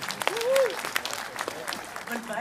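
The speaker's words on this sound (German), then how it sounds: "da möchte ich bitte einen Klatsch haben" A small audience claps briefly on request, a short patter of hands heard close beneath and between talk.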